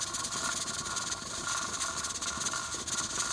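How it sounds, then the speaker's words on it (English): A pressure canner jiggler on a stove releases steam in a steady, loud hiss with a faint rattling flutter, close and continuous, with no talking. "you can see the jiggler is starting to move. It's no longer siphoning steam or water."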